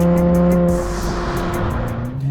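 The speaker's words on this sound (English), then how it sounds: "The exhaust is louder too" A 2024 Nissan Z NISMO with automatic transmission drives past or accelerates, its engine and exhaust loud and close with a steady tonal drone that shifts pitch as revs change.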